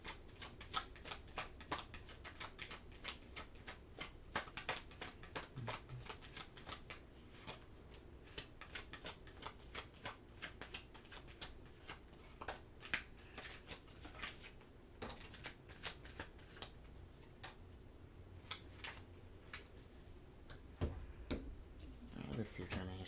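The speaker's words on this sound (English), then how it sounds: "let's get your last tarot cards here." Tarot cards being shuffled and handled in a string of soft, rapid riffling clicks and ticks. The sound runs steadily throughout at a modest level, with a person talking over much of it.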